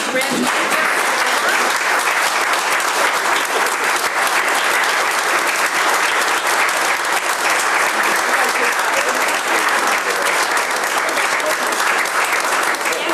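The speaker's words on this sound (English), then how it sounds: "Will everybody please stand up and give George and Estelle a big round of applause?" Loud, sustained standing ovation from a village board meeting audience for a couple nearing their 59th anniversary, dense continuous clapping filling the room from start to finish.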